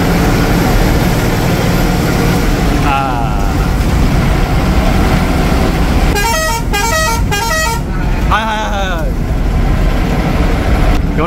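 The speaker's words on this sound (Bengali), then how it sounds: "ইঞ্জিনের সাউন্ডটা ফিল করো" A loud, steady bus engine drones throughout a driving video game, with several sharp multi-tone horn blasts in quick succession near the end.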